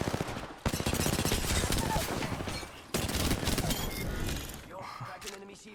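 SMG fire in the video game Apex Legends, long stretches of rapid, loud automatic shots with a short break, ending in a few scattered game sounds. Voices can be heard in places.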